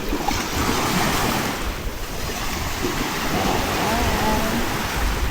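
Sea waves wash onto the shore in Brunei as a steady, loud roar of surf, with wind buffeting the microphone throughout.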